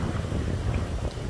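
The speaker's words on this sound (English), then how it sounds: "Really windy out there." Strong wind buffets the microphone by the water, a steady loud rumbling roar with no other sounds standing out.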